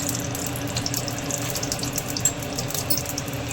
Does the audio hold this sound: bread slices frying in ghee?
yes